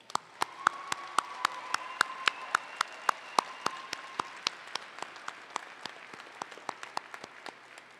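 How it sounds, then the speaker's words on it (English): Commencement audience of graduates and guests at a Wayne State University ceremony giving a round of applause: a steady run of sharp, fairly distinct claps, moderately distant in a large hall, with no talking. "and let's give them a round of applause."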